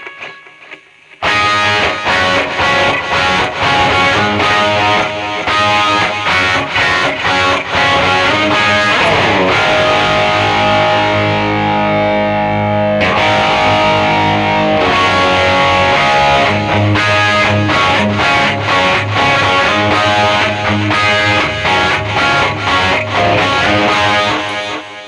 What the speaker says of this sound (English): So you're going to hear a delay